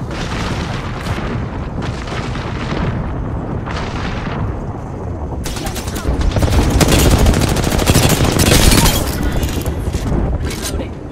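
Heavy video-game gunfire: dense, loud bursts of shooting mixed with booming blasts that swell into a sustained barrage, with a voice cutting in at moments.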